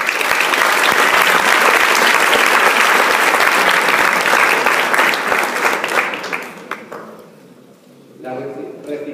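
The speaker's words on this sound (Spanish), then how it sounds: "Y creo que se merece un gran aplauso." Applause from a conference audience after a tribute to a professional, loud and dense with a continuous wash of clapping, thinning out toward the end as a voice begins to speak.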